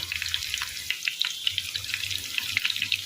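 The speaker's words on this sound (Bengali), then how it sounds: "এই যে সেখানে ইলিশ মাছ ভাজা বসাই দিচ্ছি" Hilsa fish frying in a pan of hot oil, crackling and popping in quick irregular bursts with soft watery spatters, close and steady throughout, no voices.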